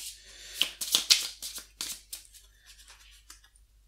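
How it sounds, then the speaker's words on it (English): A deck of game cards for a Dunkirk 1940 board wargame is shuffled by hand, a series of close, crisp riffling and snapping bursts that taper off into softer card sounds. "So I'm going to shuffle this"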